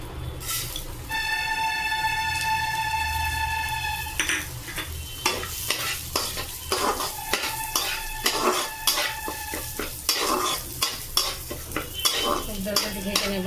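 Moong dal sizzles in a hot pan while a utensil stirs and clatters against the metal, a continuous frying hiss broken by rhythmic scrapes and taps, with a sustained metallic ringing early on.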